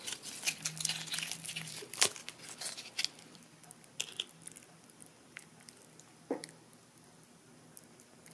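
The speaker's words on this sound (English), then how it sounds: "It'll give the peanut butter a good knead." A 22-year-old MRE peanut butter packet squeezed and kneaded by hand, soft crinkling plastic and squishy presses in scattered bursts, close and quiet.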